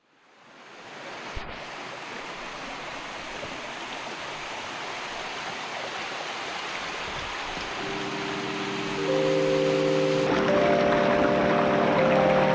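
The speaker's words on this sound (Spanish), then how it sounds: "hemos llegado a una de las cascadas más corrientes de por aquí" A waterfall in Barranco de los Cernícalos, Gran Canaria, roars as a broad, steady rush of falling water that swells slightly louder partway through, with a faint tonal hum joining near the end and no speech.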